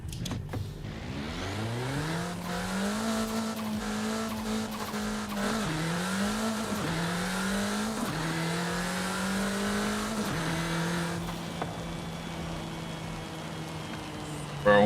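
A car accelerates hard on a late-night drive, its engine note climbing through a series of gear shifts over steady road and wind noise, loud and close throughout.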